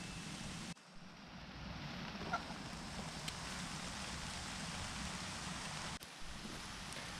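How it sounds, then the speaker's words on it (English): Steady patter of rain striking a taut tarp shelter at a camp, a continuous soft hiss with occasional louder drops, no voices. "we are getting an odd bit of rain hitting the tarp"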